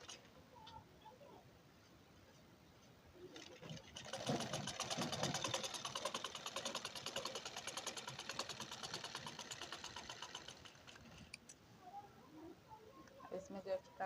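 A sewing machine stitches a blouse border strip, running steadily for about seven seconds in a dense, buzzing whir, with quieter handling sounds before and after and a voice speaking around it.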